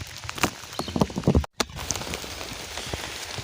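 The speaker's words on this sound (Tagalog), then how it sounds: "Hindi pa rin humupa ang ulan" Rain patters steadily on a plastic covering up close, with irregular louder drops and taps and a brief cut in the middle.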